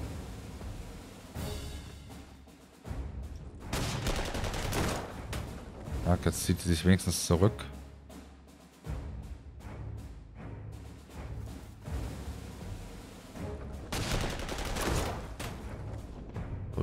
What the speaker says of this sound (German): So, die Kanone hat schon geschossen hier.